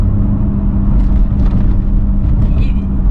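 A Nissan Skyline GT-R34 engine accelerating gives a loud, continuous rumble, with someone talking over it.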